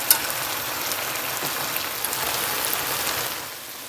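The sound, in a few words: fried prawns added to sauce, sizzling in the pan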